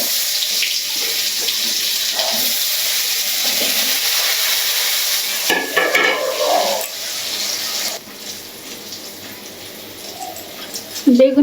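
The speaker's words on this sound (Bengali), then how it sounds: "তারপর বেগুনটা একটু ভেজে নেব।" Eggplant pieces seasoned with salt and turmeric sizzle in hot oil in a wok, a steady loud hiss that flares briefly midway, while a voice talks.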